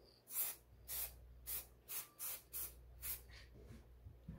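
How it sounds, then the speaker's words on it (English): Krylon Fusion spray paint hisses onto tail lights in eight short, even bursts of about a third of a second each, close and crisp with brief gaps of quiet between them. "let's just go ahead and spray this."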